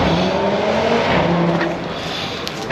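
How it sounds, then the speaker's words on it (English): Turbocharged cars out on the street at a cars-and-coffee meet at Eagle Farm, a dense, steady engine roar with a revving drone held loud throughout, fading slightly toward the end with a faint higher squeal near the close. "turbo cars having a bit of fun out in the street"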